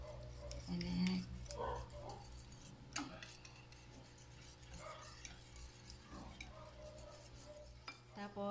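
Banana cake batter being mixed in a bowl at home, a steady run of soft scraping and light clinking from the utensil, with a voice speaking now and then over it.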